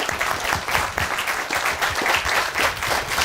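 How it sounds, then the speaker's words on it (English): A crowd applauds at an elementary school ribbon-cutting ceremony, dense steady clapping filling the whole stretch at moderate closeness. "Let's give a round of applause to them."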